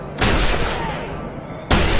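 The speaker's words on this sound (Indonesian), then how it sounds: "Suara tembakan itu terdengar oleh Rick dan kawan-kawan." Two loud gunshot bursts in The Walking Dead season 1 as survivors shoot zombies at night, each a sudden broadband blast, the first trailing off in a long echoing decay before the second hits.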